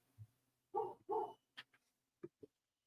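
A dog barks several times from another room, a couple of loud close barks followed by shorter, quieter yips with gaps between them, during a live reaction to a Bears versus Bengals football game.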